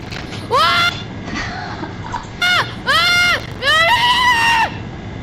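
A video game character lets out a string of shrill, wavering screams, four or five loud bursts that rise and fall in pitch over a noisy background.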